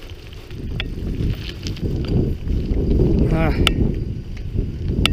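A Mongoose Define budget gravel bike rolls along with tire noise, wind buffeting and a faint mechanical click or chain rattle, under a voice.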